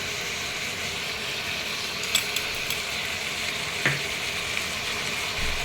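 Chicken for a Kongu-style chicken kulambu being stirred and mixed in a pot, giving a steady close sizzle with a few faint scrapes and clinks of the spoon and no talking.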